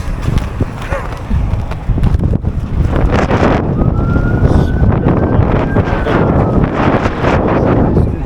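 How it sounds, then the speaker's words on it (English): Strong wind gusts buffet the microphone in loud rumbling bursts on an ice-covered main street on a snow day in Portland, while a siren wails faintly in the distance. "Okay, it's really windy."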